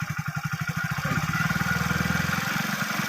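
A motorcycle engine pulling in second gear gives a close, rhythmic throbbing of steady exhaust pulses that quicken slightly and hold on, then fade near the end.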